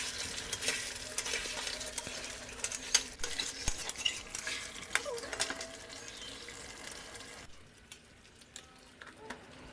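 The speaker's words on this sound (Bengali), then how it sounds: "মাংসটা খুব ভালোভাবে কষাবেন" Chicken pieces sautéed for chicken kosha curry with garam masala, stirred steadily in a pan: a continuous frying sizzle with busy scraping and clinking of a spoon against the metal. The sound drops away sharply near the end.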